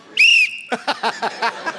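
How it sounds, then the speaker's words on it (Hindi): A whistle blown on a TV comedy stage gives one loud sustained shrill blast, followed by a rhythmic series of six short, evenly spaced pulses. "तो इसलिए हमने वो हटा के अब सीटी बजाई है।"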